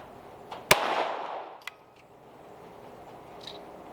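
A Sig Sauer P322 .22LR pistol fires at a range: one sharp, loud report followed by a brief decaying tail, then a fainter second crack, with quiet background after.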